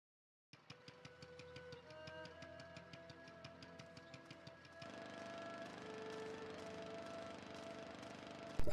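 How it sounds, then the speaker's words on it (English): Steady droning engines in the video game Tales of Legendia, a buzzing mechanical hum like lawnmowers that runs throughout with rhythmic ticking pulses and swells louder partway through. "I swear it sounds like they're driving fucking lawnmowers around."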